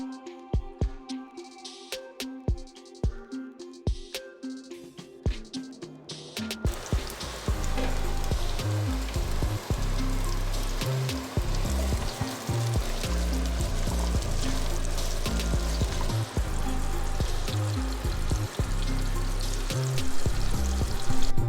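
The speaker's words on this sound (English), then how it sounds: "we're gonna throw them in a clean hot pan and we're gonna start toasting them" Fennel and mustard seeds land in a clean hot pan: a few sharp clicks come first, then a loud, steady sizzle and crackle that runs to the end.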